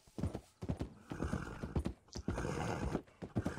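Horse hooves clip-clop in a quick, steady rhythm, close and clear, with a whinny partway through, from a Strawberry Roan Ardennes war horse in the video game Red Dead Redemption 2.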